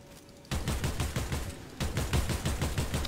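Rapid automatic gunfire from a video game, two bursts of fast repeated shots that start abruptly and run almost continuously, loud and close with no talking.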